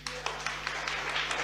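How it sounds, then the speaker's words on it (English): A church congregation at an English-language worship service claps in a brief round of applause, its irregular hand claps loose and moderately distant over a steady low hum. "Let's applause."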